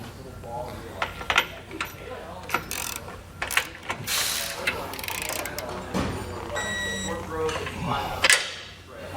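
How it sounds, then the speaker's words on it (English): Ratchet wrench clicks in quick bursts as bolts are tightened and torqued on a Blue Ox base plate kit on a 2017 Ford F-150, with close metallic clatter and pauses between strokes. "we can go ahead and tighten and torque this one down"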